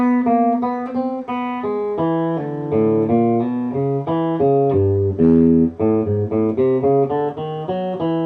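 A clean guitar plays a slow two-bar honky-tonk lick of single notes and double-stops, unhurried and evenly paced, with no voices.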